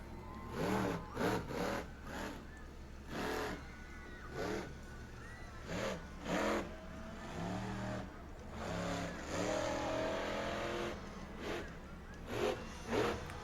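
Monster truck engine revving at a monster truck event in Ransomville, NY, repeated bursts of rising engine roar separated by short lulls, fairly distant and strong through the stretch.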